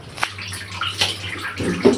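Bathing water is poured from a bucket in several splashing bursts, a broad wash of water noise rising and falling with a brief heavier dump near the end; no one speaks.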